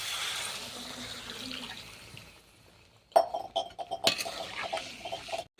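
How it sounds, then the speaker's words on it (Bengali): Water is poured into a pan of Bengali jackfruit and prawn curry. A steady hiss and simmer come first, then after a short quiet come close splashing pours and clinks of a utensil. "এবার জল দিয়ে দেবো।"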